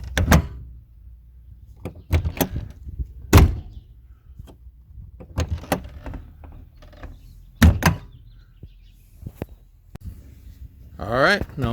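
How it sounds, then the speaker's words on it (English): A Grand Design RV entry door with a modified latch and refitted striker plate is shut several times, giving sharp close thunks and latch clicks with quiet gaps between them, and a voice speaks briefly near the end. "The door closes that simple."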